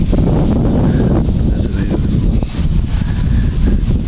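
Steady wind rushing and buffeting across a microphone, a continuous low roar with gusts rising and falling throughout.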